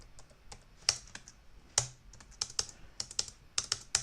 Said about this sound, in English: What is happening with my keyboard?